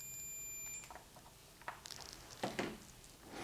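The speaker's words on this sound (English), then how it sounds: "we get a beep and a really low reading on the display" A digital multimeter in continuity mode gives a steady, faint, high-pitched beep lasting under a second, followed by soft clicks of probes and handling.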